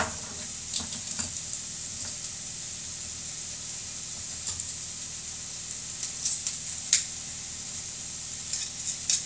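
Garlic cloves sizzling in a pan, a steady soft hiss with occasional light clinks of a utensil stirring against the metal, fairly quiet and close, with no talking.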